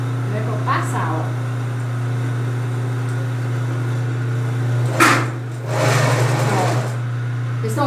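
A sewing machine running a steady straight stitch while attaching a bra cup, its constant motor hum filling the clip under a voice, with brief rustling of fabric near the end.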